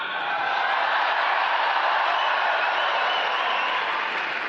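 A large diaspora crowd in an Auckland hall applauds in a dense, steady roar of clapping and cheering that holds at full strength throughout, with no speech over it.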